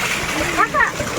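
Bathers splash in the sea during a Dhuleti (Holi) outing: brief, choppy splashes of water under overlapping voices that carry through the whole short stretch.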